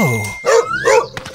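Dog barking among toy play with a Paw Patrol dog, a couple of close, loud yelping barks with a whine, mixed in with voices.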